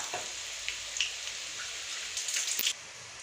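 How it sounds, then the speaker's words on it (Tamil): Ragi vada frying in hot oil gives a steady soft sizzle with scattered crackles and pops, close and fairly quiet, with no voices. "ராகி வடை நல்லா வெந்துருச்சுங்க."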